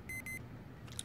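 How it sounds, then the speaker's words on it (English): An alarm gives two short, bright electronic beeps in quick succession, close and clear over a quiet room background, followed by a faint high chirp. "Let me turn this alarm off."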